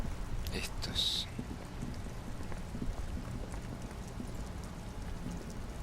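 Steady rain falls in the video game Disco Elysium, a soft continuous patter throughout, with a brief bright chime near the start.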